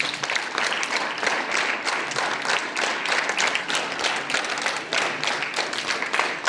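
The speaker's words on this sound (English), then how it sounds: "Clap." Steady, even clapping from an assembled group at a ceremony, continuous and moderately loud for several seconds with no talking over it.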